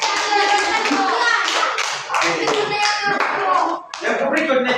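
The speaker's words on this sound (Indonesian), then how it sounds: "kita tepuk tangan dulu" Children in a classroom clap their hands together in a lively burst, a dense run of sharp close claps filling the whole stretch with a brief dip near the end.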